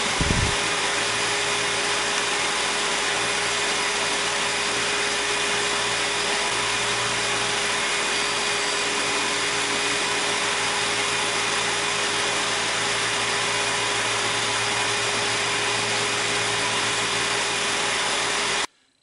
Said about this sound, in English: The goal of the work in the cabinet grinder is to remove a lot of excess wood from this grip